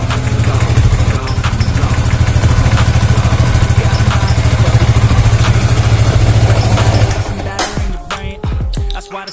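A Yamaha Vixion motorcycle engine runs steadily at idle right after starting. It is loud and close, with a constant mechanical clatter that changes near the end.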